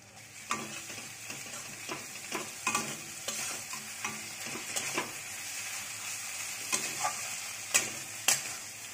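Ground paste of ginger, garlic and stone-ground dried chillies is sautéed in a pan, a soft continuous sizzle broken by repeated scraping and tapping strokes of a spatula, close and fairly quiet with no voices.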